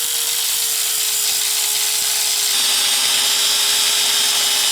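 Power tool grinding through the U-bolts on a small 4x4 during a cheap lift job, a loud continuous whine with a steady tone that shifts slightly partway through, nearby and without talk.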